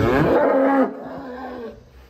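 A giant one-ton cow moos loudly and close while being unloaded from a truck, one long low call that cuts off and leaves quieter background noise.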